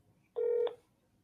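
Single telephone dialing tone from a phone call, a brief clean electronic beep of about a third of a second over a faint background hum.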